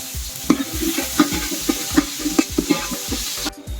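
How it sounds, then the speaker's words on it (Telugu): Onions fry in oil until golden brown for a chicken dum biryani, with a spoon stirring in a steady rhythm of loud, close scrapes about twice a second over a soft sizzle, and no voices. "ఇప్పుడు ఆనియన్స్ వేసుకుందాము. గోల్డెన్ బ్రౌన్ వచ్చేదాకా వేసుకుందాం."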